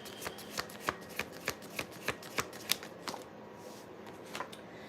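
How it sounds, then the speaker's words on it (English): Tarot cards being shuffled by hand, a steady series of about ten crisp riffling snaps close to the mic, then a softer sliding shuffle at the end, with no talking. "One more card, then I'm done with this tarot."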